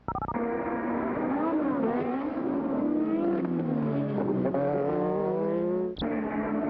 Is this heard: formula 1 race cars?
yes